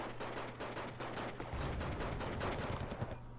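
Sustained rifle and machine-gun fire in a video game battle, dense rapid bursts that keep going throughout with a heavier low rumble building in the second half, loud and without talk.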